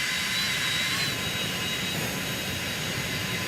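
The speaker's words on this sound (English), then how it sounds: "Remember, we're starting up the engine." A Citation X jet engine spools up during start, a steady, loud turbine roar with a thin whine held through it, heard alone with no talk.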